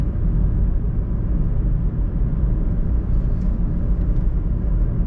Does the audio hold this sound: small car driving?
yes